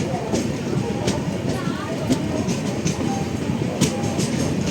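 A Tambaram to Rameswaram express passenger train rumbles steadily along the tracks south of Chengalpattu, with continuous low rolling noise and faint rhythmic clatter throughout, fairly close.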